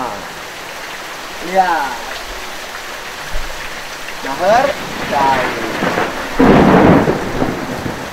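Heavy rain pours down steadily while low thunder rolls in several rumbles, the loudest near the end; a few people speak briefly over the downpour.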